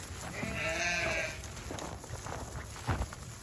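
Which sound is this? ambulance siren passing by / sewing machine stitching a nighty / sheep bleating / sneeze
sheep bleating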